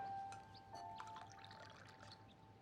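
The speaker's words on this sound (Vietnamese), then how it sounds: "Con rót trà cho bố." Tea is poured from a pot into a cup, a soft continuous trickle lasting a couple of seconds with a faint tonal ring, quiet and close.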